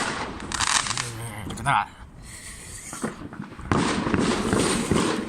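New Year fireworks explode in a series of sharp bangs and crackling bursts, some loud and close, while people talk and react nearby.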